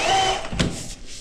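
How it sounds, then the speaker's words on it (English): A power drill with a flexible shaft clearing a drain clogged with paper towels whirs steadily at close range, with a brief surge in pitch partway through as the motor keeps running. "Hold that red up against the drill."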